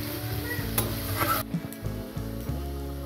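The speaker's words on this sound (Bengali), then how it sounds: "এবার এটা একটু ভালো করে মিডিয়াম আঁচে ভাজতে হবে।" Taro paste fries and is stirred in a pan over medium heat, giving a steady close sizzle with scraping spoon strokes and a brief knock partway through, no voices.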